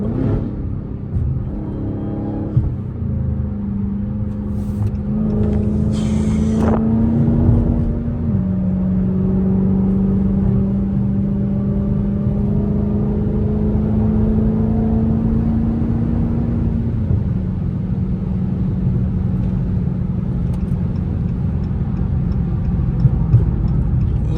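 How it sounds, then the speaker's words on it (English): A straight-piped Dodge Hellcat widebody on the road, its engine droning loud and steady with a couple of clear pitch shifts as it changes gear, heard close and continuous with no talking. "This is the first straight pipe Hellcat POV drive on the channel."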